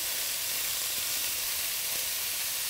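Garam masala spice blend hits hot oil in a pan for a vegetable tahiri, giving a steady, close, hissing sizzle with no pauses.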